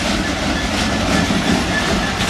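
Freight wagons of the Southampton to Trafford Park service roll past at Eastleigh, a continuous close rumble with clattering wheels over the rails.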